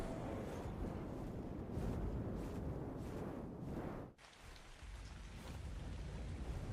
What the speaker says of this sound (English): See, now we're just in the rain because we're out of the snow biome.